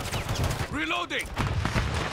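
Gunfire crackles through a Call of Duty Modern Warfare 3 multiplayer match, steady shots near and far mixed with a whooshing effect and voice chatter.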